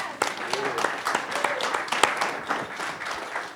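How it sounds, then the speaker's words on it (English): An audience bursts into applause, a dense patter of many hands clapping with a speaker's voice mixed in over it. "can we clap for that?"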